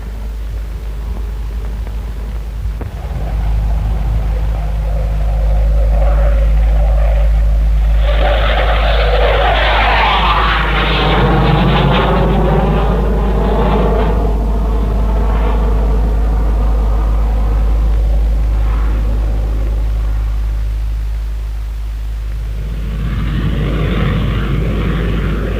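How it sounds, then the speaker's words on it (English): Hawker Hunter two-seat jet trainer flying at the Farnborough air show, its engine roar swelling loud as it passes close overhead with a sweeping pitch shift, then fading and building again. "there, in case anyone would care for a ride, goes the latest Hunter 2-seat advanced operational trainer"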